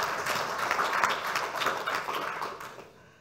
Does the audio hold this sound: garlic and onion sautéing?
no